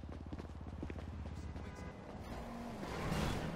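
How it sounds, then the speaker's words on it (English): Cars driving in the video game GTA 5, with a steady engine hum and passing vehicle noise that swells toward the end, heard up close under game ambience. "I hear some cars"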